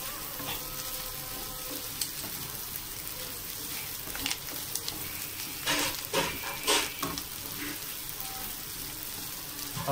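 Prawn thokku with curry leaves fries in a pan with a continuous close sizzle, while stirring scrapes cluster into louder bursts midway.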